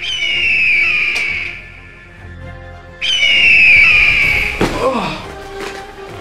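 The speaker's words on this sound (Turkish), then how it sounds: "Güvercinmiş lan. Bir de kartal sesi çıkarıyor utanmadan." A pigeon gives long, shrill, eagle-like screeching calls, two loud drawn-out cries separated by a pause, followed by a thump.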